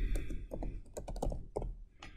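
Keys clatter steadily on a computer keyboard, a quick run of nearby clicks and thunks with a faint hum behind them and no talking.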